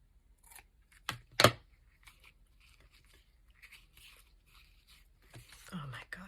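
Scissors snip through fine lace strands while a valentine card is trimmed, giving a few sharp close cuts, one especially loud, with quiet rustling between and a soft voice murmuring nearby.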